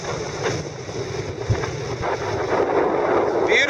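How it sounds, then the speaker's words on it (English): Wind buffeting the microphone beside a small lake or reservoir at a high point on the Laurel Highlands Hiking Trail, a steady broadband rumble and roar that swells slightly toward the end and stays loud throughout. "Sorry about the wind noise."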